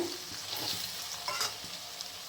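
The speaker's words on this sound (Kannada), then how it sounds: "ಟೊಮಾಟೊ ಫ್ರೈ ಆಗೈತೆ." Tomatoes frying in a pan for chicken fry, a steady close sizzle with light stirring and scraping sounds, no voices.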